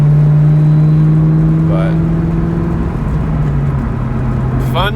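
A 2003-2004 Terminator Cobra's engine drones steadily and loud from inside the cabin while it is driven and shifted, with the pitch dipping between gears and a voice speaking briefly over it.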